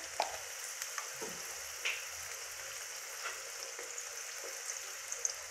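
Potatoes fry quietly in a pan of oil, a soft steady sizzle with a few faint scrapes and stirs, no voices.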